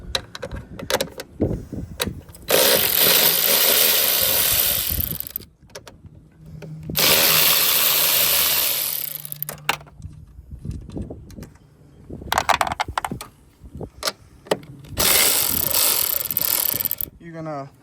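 Wrenching loose 13 mm bolts on a Mercedes-AMG car: bursts of loud ratcheting and mechanical clicking come in several long runs, separated by quieter pauses with faint clatter and handling noise nearby.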